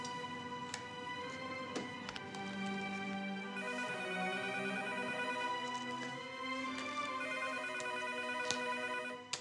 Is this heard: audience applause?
no